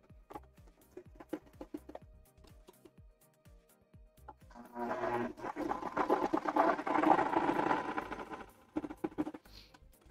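An overlocker (serger) stitches a piece of a men's flat cap in a close, fast mechanical whir lasting several seconds. Scattered clicks and handling taps come before and after it.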